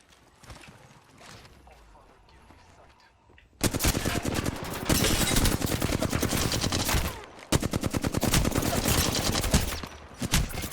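Rapid automatic gunfire in Apex Legends erupts loud and dense after a quieter stretch of game sounds, with two long sustained bursts separated by a brief pause.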